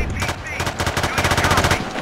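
Heavy automatic gunfire from a large weapon in Battlefield 2, modded with flying tanks: a dense, loud, rapid string of shots running almost the full length, with faint voices underneath.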